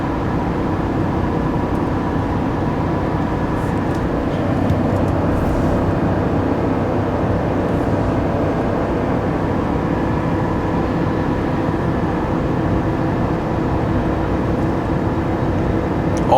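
Steady, loud drone from a 2024 Chevy Silverado HD's gas L8T engine with Allison 10-speed, held at wide open throttle while towing 13,000 pounds up a 6% grade, a constant heavy hum without letup.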